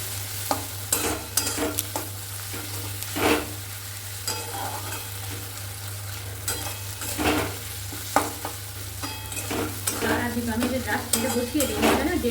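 Masala for a chicken dish fries in a pan with a continuous sizzle while a spatula stirs and scrapes it in irregular strokes, close and fairly loud, with a low steady hum from the stove beneath and nobody speaking.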